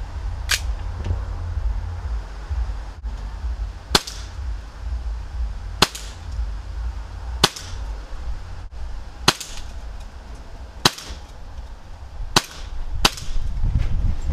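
A series of sharp, snappy shots from a Cybergun Colt Mark IV Series 70 CO2 air pistol fire one at a time at roughly even intervals, about eight in all, at 8 metres over a low outdoor wind rumble.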